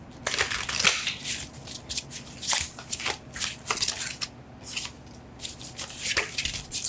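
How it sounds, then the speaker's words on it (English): A tarot deck is shuffled continuously up close, with rapid crisp flutters and slaps of cards riffling and tapping together in quick irregular bursts for several seconds, without speech. "I want to shuffle a little bit more"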